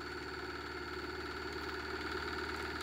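A large 3D printed pulse motor rotor spins at about 1000 RPM, giving off a steady, faint electrical hum with a fine rhythmic pulsing buzz, constant and unbroken throughout with no one speaking.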